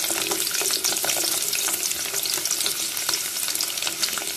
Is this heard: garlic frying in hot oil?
yes